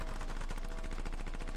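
Dense, continuous gunfire during a squad firing training drill, with rapid overlapping shots forming a loud, unbroken rattle.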